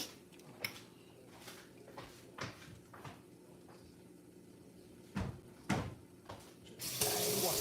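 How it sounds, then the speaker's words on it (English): Water is added to a pan while Bengali fish curry cooks in a kitchen. Quiet clatter and scattered knocks come first, then a soft, steady rush of pouring near the end. "Now I think I'm ready to add water."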